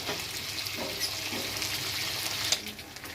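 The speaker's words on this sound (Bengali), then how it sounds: "মাছের মাথাটাকে আমি ভেজে নেব।" Hilsa fish heads fry in hot oil in a wok, giving a steady, bright, watery sizzle with a few sharper pops, close and alone.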